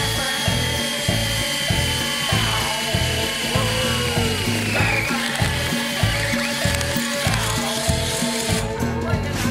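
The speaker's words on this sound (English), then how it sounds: "so I'll go ahead and drill a hole in it" A power drill bores a hole during an engine swap on a Toro walk-behind mower, giving a loud, continuous whine with a shifting pitch over a steady rumbling background.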